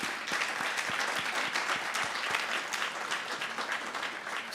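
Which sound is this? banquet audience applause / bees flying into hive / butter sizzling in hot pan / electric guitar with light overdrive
banquet audience applause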